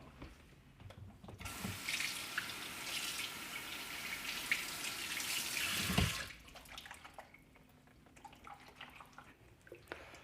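Running water pours steadily from a tap into the water tank of a Proscenic P11 cordless vacuum mop for several seconds, then stops, leaving faint drips and quiet room sounds.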